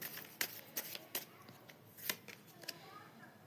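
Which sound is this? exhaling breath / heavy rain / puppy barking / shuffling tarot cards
shuffling tarot cards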